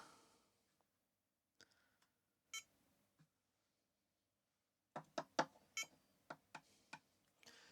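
A chip tester checks chip U22 from a Commodore 64, giving faint, sharp beeps and clicks: a few scattered ticks, then a quick cluster of short pulses near the end.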